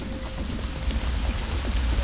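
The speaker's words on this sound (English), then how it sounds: "Oh, it's raining!" Steady rain in the video game Hitman: Blood Money, a continuous hissing wash of drops on surfaces with a low rumbling bed, even and unbroken throughout.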